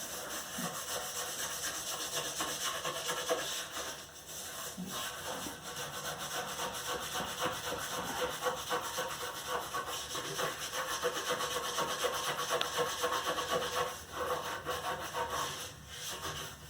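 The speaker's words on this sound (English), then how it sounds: "we got one of these fancy dandy Brillo pads. It's not even a Brillo, but stripping pad." A stripping pad scrubs a stain inside a toilet bowl, giving a steady, fairly faint rhythmic scratching that carries on without a break, with no voices.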